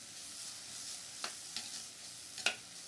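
Ginger and spices sautéing in a pan for a Karnataka-style okra stir-fry, a soft steady sizzle with a few light stirring scrapes and taps, fairly faint and close.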